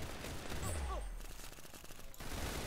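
Musket gunfire in a Roblox game comes as quiet, rapid popping shots in a short burst, faint and compressed, with a brief swooping effect in the middle.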